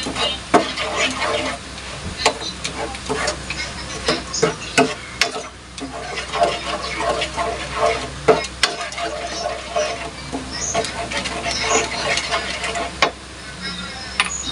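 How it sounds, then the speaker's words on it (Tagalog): A cornstarch mixture is stirred in a pot on a switched-off stove while making apple pie, giving steady scraping and clinking strokes close up. The stirring runs almost unbroken, with sharp taps of the utensil against the pot rim. "Kasi po haluin ko muna mabuti yung ating cornstarch"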